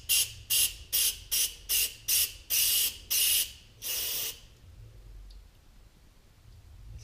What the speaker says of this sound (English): This is going to spray everywhere, so be careful and don't spray directly back to your eyes.